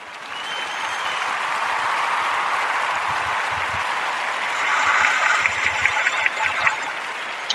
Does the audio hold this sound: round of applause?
yes